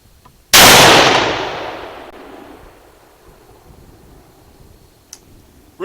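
Remington 700 ADL rifle fired once, a loud close crack with a long decaying echo tail, followed by quiet and a small metallic click near the end.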